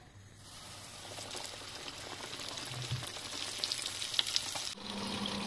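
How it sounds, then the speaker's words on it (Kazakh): Fish pieces coated in flour and egg fry slowly over low heat in oil for homemade KFC-style fish, with a soft, continuous bubbling sizzle and small crackles building up close by. "Осылай 5 минут жай отқа қуырып аламыз."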